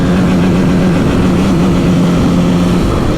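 A 2021 KTM RC 200 motorcycle engine drones loud and close in sixth gear at near top speed on a highway, a continuous low hum blended with heavy wind rush.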